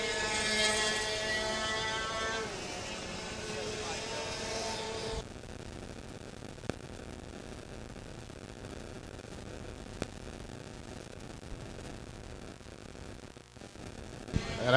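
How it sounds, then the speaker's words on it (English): A Tag Junior racing kart at Monticello with a faulty exhaust: its engine whines in rising harmonics for about five seconds, then drops to a low, steady drone with a few faint clicks. "Can hear that exhaust just screeching as they come up to the Fangio turn."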